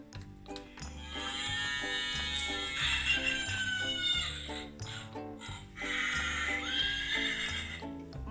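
Horses neigh and whinny in two long, shrill calls, mixed with hoof clip-clop, heard clearly and fairly loud.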